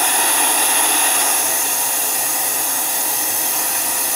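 A steady, loud rushing hiss of suction as a vacuum fixture pulls a knifemaking workpiece down, constant throughout with no pauses or voices.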